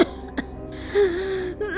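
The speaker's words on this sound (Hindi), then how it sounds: "बहुत खांसी आ रही थी" A girl coughing and clearing her throat in an animated horror story, a sharp close hack followed by a short gasping, whimpering breath, with no talking.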